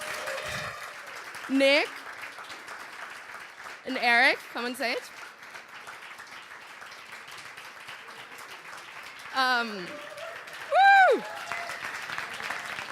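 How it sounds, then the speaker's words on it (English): An audience applauds at a coding bootcamp demo day in Berlin, with clapping rising under a presenter's voice and a cheer between spoken lines. "Round of applause."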